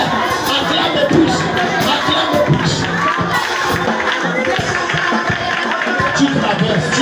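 A church congregation at a deliverance service cheers and acclaims in a loud, continuous roar of shouting and mixed voices that stays dense from start to finish.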